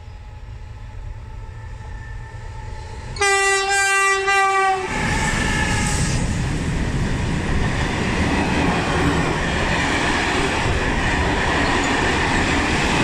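A train passing through Anzola Emilia station sounds a loud, sharp horn blast of about a second and a half, then rushes by with a sustained roar and rail clatter that continues steadily to the end.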